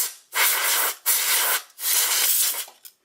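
Compressed air sprayed into an SD-505-APS smoke detector to blow out dust, three loud close hissing bursts of about half a second each, separated by brief pauses, with a short final puff.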